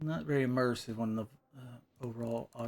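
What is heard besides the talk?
No everyday noises stand out.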